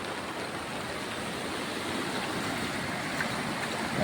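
A continuous rushing of flood water after a cloudburst, flowing broad and steady through farmland, fills the scene at moderate volume with no voices.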